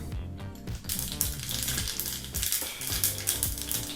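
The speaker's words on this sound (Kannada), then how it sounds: "ಬಿಸಿಯಾದಂಥ ಎಣ್ಣೆಗೆ ಸ್ವಲ್ಪನೇ ಸ್ವಲ್ಪ ಸಾಸಿವೆನ ಹಾಕಿ" Mustard seeds crackle and pop in hot refined sunflower oil, a dense, continuous sizzle with sharp spitting bursts throughout, close and loud with no voices.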